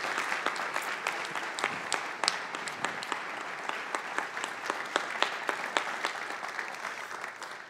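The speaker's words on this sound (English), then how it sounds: "Will you just give them a round of applause?" A church congregation applauds visiting missionaries with steady, full clapping from many hands that continues evenly throughout, with no talk over it.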